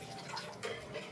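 Water pouring into a pan during home cooking, a soft continuous splashing hiss that lasts only about a second, fairly faint, with no voices.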